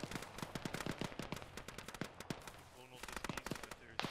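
Automatic gunfire in the military shooter game Arma, with rapid bursts of sharp shots that crackle nearby, pause briefly, then resume, while voices talk faintly underneath.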